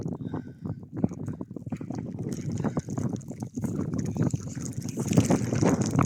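Strong hurricane-force wind with snow and rain sweeps across an ice fishing spot, buffeting the microphone in a loud, continuous rush broken by gusty thumps throughout.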